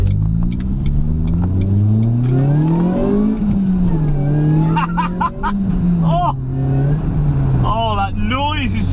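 A supercharged 216 BHP Ford Focus engine revs repeatedly, its pitch climbing and falling in long sweeps, loud and close, with a voice occasionally heard over it.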